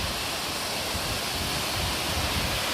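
A hilltop waterfall at Gadad pours down in a steady, dense roar of rushing water, continuous and close with no breaks or voices over it.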